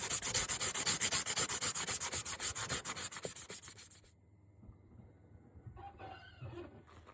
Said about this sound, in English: Sandpaper for the surface prep.